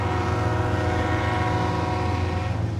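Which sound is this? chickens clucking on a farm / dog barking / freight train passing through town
freight train passing through town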